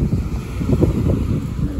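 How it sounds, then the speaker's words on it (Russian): Steady wind buffets the microphone on a crowded seashore, a continuous low rumble and roar that gusts throughout, with no voices standing out. "Ой, тут ветер."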